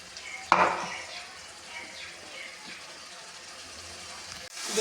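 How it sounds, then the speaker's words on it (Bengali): Spice paste of ginger, garlic and chili frying in oil gives a soft, steady sizzle, with a quick stirring scrape near the start. The sound is quiet and close, with no talking. "মশলাটা এরকম করে ভাজছি, যতক্ষণ না তেলটা ছাড়বে ততক্ষণ এটাকে ভাজতে হবে"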